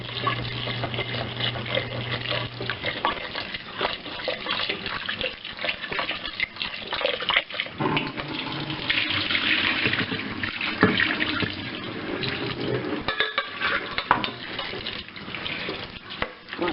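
Water runs steadily from a kitchen tap for the whole stretch, a continuous splashing hiss with occasional clinks and shifts as something is moved under the stream.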